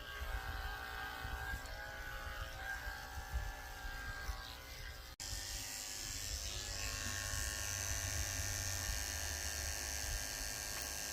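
Electric clippers fitted with a 30 blade buzz steadily while shaving the paw pads of a Yorkie puppy, a close, constant motor hum that briefly cuts out and restarts, with no talking.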